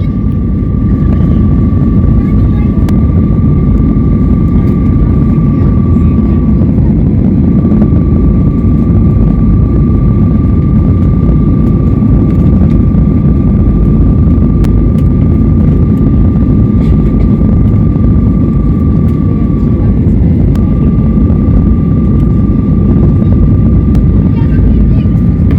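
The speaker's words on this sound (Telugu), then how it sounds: "ల్యాండింగ్ ఎంత అందంగా ఉంటుందో చూడండి దీవుల పైన" Airplane cabin drone as a flight lands over the islands at Langkawi, a loud, steady engine roar with a constant hum running through it, and some talk underneath.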